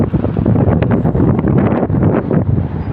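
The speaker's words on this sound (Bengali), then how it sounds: "অনেক আরামের একটা বাতাস আছে" Strong wind gusts outdoors on an open roadside, buffeting the microphone with a loud, rough rumble that swells and dips without pause.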